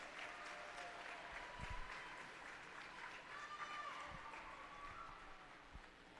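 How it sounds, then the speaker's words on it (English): Crowd applause at a girls' high school swim meet, a sustained wash of clapping in an echoing indoor pool hall, fairly distant and even, with a few low thumps. "One more round of applause for the seniors for all the teams."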